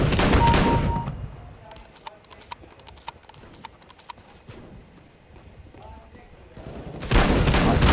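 Counter-Strike: GO gameplay with a rapid run of sharp, clattering shotgun shots through the middle of the passage, framed by louder bursts of broadband noise at the start and end.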